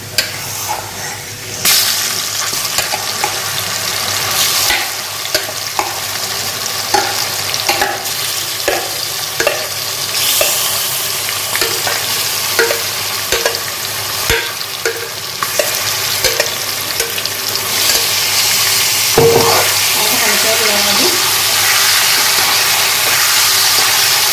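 Chicken meat tipped into onions fried with a little sugar for butter chicken sizzles and hisses continuously while being stirred, with frequent clacking and scraping of a utensil against the pan, loud and close throughout.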